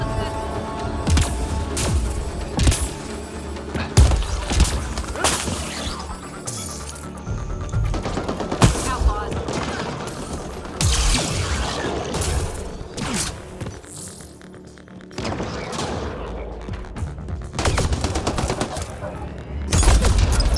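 Gunfire during a Mass Effect: Andromeda battle, with dense bursts of rapid shots, crashes and impacts coming in irregular clusters, loud and close, with brief lulls between volleys and voices mixed in.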